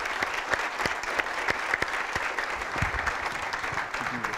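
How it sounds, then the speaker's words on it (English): An audience at a panel on the presidency and the press applauds its guests, many hands clapping steadily with some distinct sharp claps standing out nearby. "let's give our guests a round of applause."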